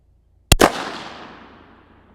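A Savage B.MAG target rifle in .17 WSM fires a single sharp, loud shot, its report decaying over about a second and a half.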